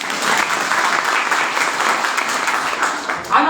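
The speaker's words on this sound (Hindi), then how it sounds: "सबके लिए जोरदार तालियां।" Dense applause from a seminar audience welcoming new members, steady and even throughout, with a brief louder burst near the end.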